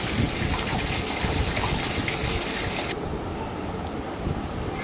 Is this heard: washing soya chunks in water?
yes